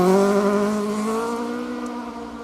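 A 2-litre Mark II Escort rally car roars past on a stage of a Welsh rally championship event, the engine note loud and close at first, then dropping in pitch and fading as it pulls away.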